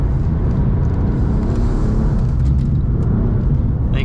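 A BMW M4 F82 drifting on the Circuit de Lohéac track, its engine a loud, dense, continuous roar and rumble that holds steady throughout at close range, with no clear gaps.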